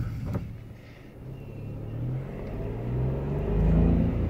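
2017 Mitsubishi Mirage SE with a five-speed manual, heard from inside while driving: the engine hums low, then revs up, swelling toward the end.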